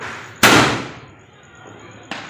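A double-shot firecracker set off during Diwali celebrations at home: one loud close bang, then a fading tail, and a second sharper crack about a second and a half later.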